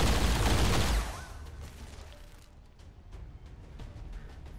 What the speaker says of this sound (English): wild shots flying in there